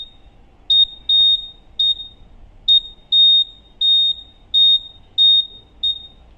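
A theft-detection sensor device set up in a jewellery shop gives short, sharp electronic alarm beeps, about nine of them in an irregular series, clear against a quiet background.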